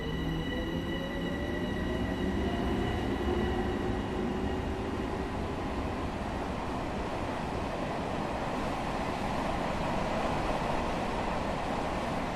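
Steady rolling rumble and wheel noise of a New York commuter train running between Grand Central, Harlem and North White Plains in Train Sim World 2, continuous and fairly loud with faint tonal whines fading early on.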